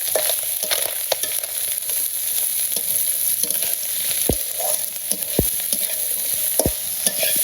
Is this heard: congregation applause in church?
no